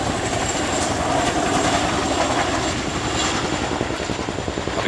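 A Royal Air Force Chinook HC.5 twin-rotor helicopter flies a display at an airshow, its loud, steady rotor thump and turbine roar filling the air continuously at close range.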